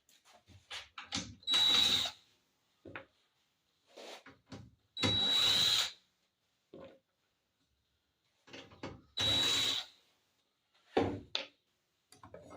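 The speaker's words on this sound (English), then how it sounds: "Let's get these screws off." A handheld power drill backs screws out of hardware, giving three loud bursts of whirring, each about a second long, spaced apart by quiet gaps with small clicks and handling knocks.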